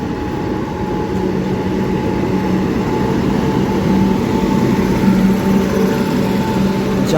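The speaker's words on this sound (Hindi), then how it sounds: "सामने से कोई ट्रेन गोविंदपुरी को स्किप करने के लिए आ रही है" A train runs through Govindpuri station without stopping, a steady loud rumble and rolling wheel noise with a faint high whine that stays constant and swells slightly toward the end.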